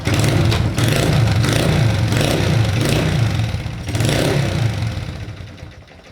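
A Yamaha Townmate motorcycle engine runs close by with a throbbing, uneven idle and occasional slight revs, fading a little toward the end.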